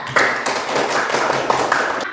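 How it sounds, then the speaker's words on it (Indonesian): A small group claps in a classroom, a short burst of uneven, fairly close hand claps lasting about two seconds. "tepuk tangan untuk kelompok luar biasa"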